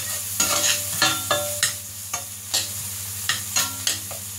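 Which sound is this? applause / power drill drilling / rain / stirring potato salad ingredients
stirring potato salad ingredients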